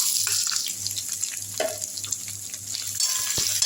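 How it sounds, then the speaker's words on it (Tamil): Onions sizzle and fry in a hot pan while being stirred for a drumstick-flower and drumstick stir-fry, a steady close crackling hiss with occasional scraping of the spoon, no voices. "இப்போ இதில் வெங்காயத்தை போட்டுக்கலாம்"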